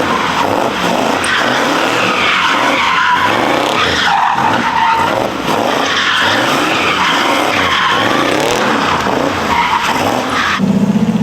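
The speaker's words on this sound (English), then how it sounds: "After 2 failed drifts, I think Joe don't got it like that" A Chevrolet Corvette C7 drifts with tires skidding and squealing continuously, a loud close screech over the revving engine that pulses as the car slides for about eleven seconds.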